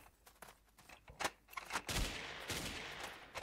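Gunfire and a grenade blast in the voxel shooter Build and Shoot: scattered sharp shots early on, then a heavier burst around the middle that trails into a noisy rumble, fairly faint overall.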